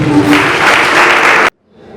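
Loud, dense applause from a wedding ceremony crowd fills the room steadily for about a second and a half, then cuts off abruptly into near silence.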